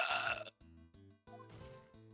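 A single burp from a person, with several short voiced bursts following in a low, rumbling rhythm, close and fairly quiet with no talk over it.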